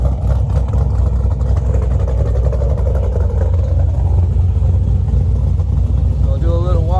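A built 2010 Chevrolet Camaro SS V8 with long tube headers, GM performance mufflers and a stage 4 cam idles with a loud, steady, lumpy rumble, and someone talks over it throughout.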